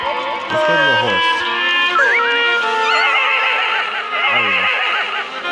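A horse in the video game Haunt the House whinnies repeatedly in shrill, wavering neighs, fairly loud and close, while a person talks briefly over it.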